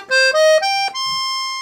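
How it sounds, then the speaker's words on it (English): Black Catena 41-key, 120-bass piano accordion on its violin register, voiced with the middle clarinet reed, playing three sustained notes in a rising step, close and clear with no talking. "This is called the violin, but it's really our middle clarinet reed."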